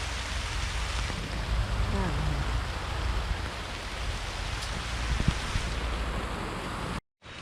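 Steady rain hisses and patters continuously, close and fairly loud, cutting off abruptly near the end.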